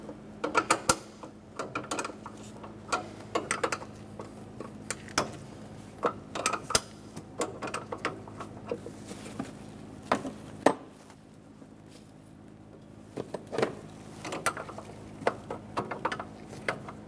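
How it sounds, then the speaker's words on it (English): A 12mm wrench cracks two brake lines free on the master cylinder of a 2005-2015 Toyota Tacoma: irregular close metallic clicks, taps and small clanks of the tool against fittings, with quiet pauses and no voices. "Using a 12mm wrench, we're going to crack the two lines free on the side of the master cylinder."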